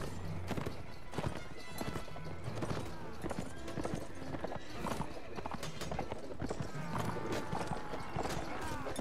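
Hooves clip-clop in a steady galloping rhythm through a Mount & Blade: Warband battle, with a horse whinnying now and then amid dense game noise and voices throughout.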